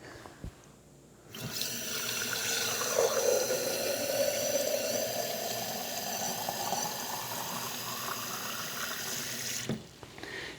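Water rushes steadily from the faucet of a homemade whole-house reverse osmosis system, a loud continuous flow that starts abruptly, runs for about eight seconds and then cuts off.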